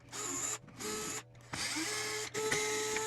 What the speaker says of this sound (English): we're going to start by turning the toy over and removing the 4 screws on the back